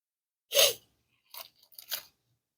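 Crunchy food is chewed close to the microphone while eating outdoors: one loud crunching bite, a short pause, then two quicker, softer crunches.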